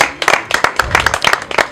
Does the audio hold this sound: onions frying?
no